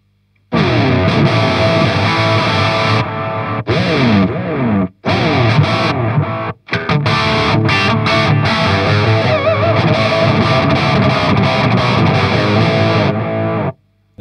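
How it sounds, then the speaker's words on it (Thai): An electric guitar plays through a Musiwewe Light Purple delay pedal at maximum delay time with feedback at zero, driven by amp distortion, giving loud, gritty strummed and picked phrases with brief pauses between them. "ปิดฟีดแบ็กศูนย์เหมือนเดิมนะแล้วก็เปิดดีเลย์ไทม์สุดแล้วจะใช้เสียงแตกจากแอมบ้างนะครับ"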